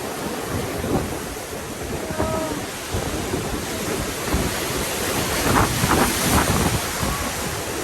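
Strong wind and ocean waves at a South African beach, with a continuous roar of surf and gusts buffeting the microphone throughout.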